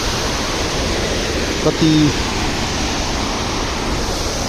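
A waterfall at Shivapuri near Budhanilkantha, Nepal, gives a steady, close, broadband rushing roar that fills the whole clip, with one brief spoken word partway through.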